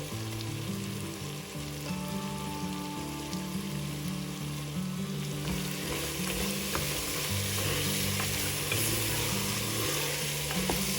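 Ginger garlic paste fries with chopped tomato in a hot pan, a steady close sizzle and crackle that continues throughout under occasional soft stirring.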